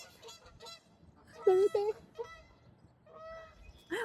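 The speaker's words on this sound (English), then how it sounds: "You hear the geese?" Geese honking outdoors, a few loud calls in the middle and a short honk at the end, with quieter bird calls around them and a voice speaking briefly.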